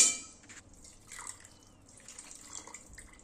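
Water is poured from a mixer jar through a strainer, making faint, uneven trickles and drips with soft splashes throughout.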